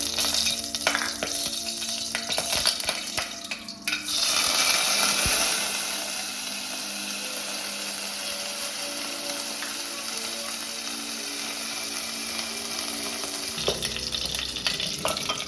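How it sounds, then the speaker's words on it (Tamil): Mustard seeds and small pieces of cinnamon fry in hot oil in a pan. A steady, close sizzle with fine crackling and popping is loudest at first, then settles into an even hiss. "கடுகு நல்லா பொரியணும்."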